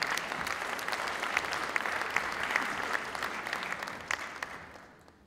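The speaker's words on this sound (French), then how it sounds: "sous vos applaudissements, s'il vous plaît" An audience at a French conference on future housing and architectural project management breaks into warm, continuous applause that holds steady and then fades away near the end.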